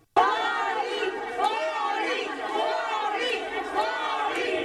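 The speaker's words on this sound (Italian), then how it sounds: "La folla invoca a gran voce sindaco e assessori, vorrebbe che qualcuno scendesse giù" Protest crowd in Venice outside Ca' Farsetti, gondoliers, tour guides and vendors among them, shouting for the mayor and councillors; a dense, continuous roar of many voices with rising chants and calls, loud and close throughout.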